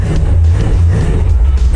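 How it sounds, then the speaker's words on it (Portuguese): An American V8 sports car engine gives a loud, steady, deep rumble close by with slight surges in intensity, and no voices are heard. "com som de V8 no ouvido, isso é simplesmente sensacional"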